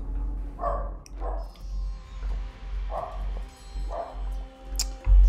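Dogs in a home bark in a few separate, muffled bursts, some distance from the microphone, over a steady low hum.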